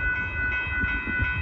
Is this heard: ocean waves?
no